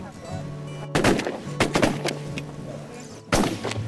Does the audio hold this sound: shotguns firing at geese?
yes